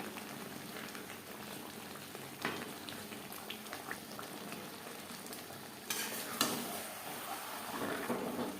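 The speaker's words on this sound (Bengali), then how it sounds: "এভাবে একটু নাড়াচাড়া করে দিতে হবে যেহেতু কাজু কিশমিশ ও বাদামের পেস্ট আমি এখানে অ্যাড করেছি" Chicken chaap with a cashew, raisin and almond paste gets stirred in a pan over high flame, with scraping stirs and a soft, steady sizzle in the background.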